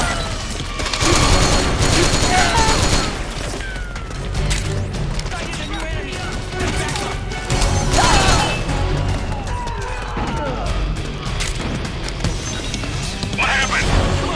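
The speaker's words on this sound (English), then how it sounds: "Okay, grenade launcher." Grenade launcher shots and explosions in Metal Gear Solid 4 on PS3, a dense run of loud booms and crashes mixed with gunfire, sustained and close, with game voices talking over parts of it.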